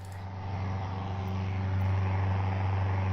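Steady aircraft engine drone from Microsoft Flight Simulator, a continuous low hum with a strong bass tone that holds level throughout, growing slightly louder partway through, with no talking over it.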